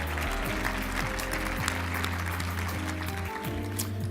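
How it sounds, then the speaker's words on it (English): Applause from the audience at a health symposium, steady clapping heard beneath a sustained low electronic drone or tone that runs throughout. "Please give yourself an applause."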